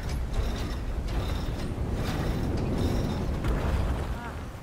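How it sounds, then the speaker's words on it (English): A big door's opening mechanism grinds and creaks in God of War, a loud continuous rumbling of gears and ratcheting with occasional creaks, no talking over it. "Oh, this opens up this big-ass door here."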